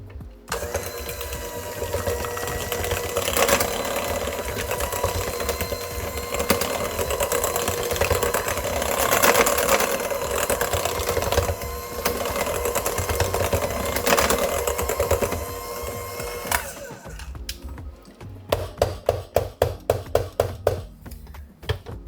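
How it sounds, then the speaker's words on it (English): Electric hand mixer whipping a creamy lotion-like mixture, a steady loud motor whir running close and continuous, then breaking into short rhythmic bursts near the end. "I'm going to now use a hand mixer to mix it up, and you'll see it kind of gets like a creamy kind of texture."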